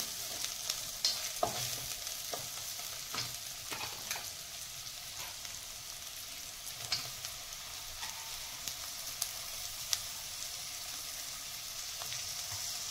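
Tomatoes go into a pan of frying Maharashtrian potato bhaji seasoned with turmeric and red chili powder, giving a low, steady sizzle with regular spoon scrapes and taps against the pan throughout.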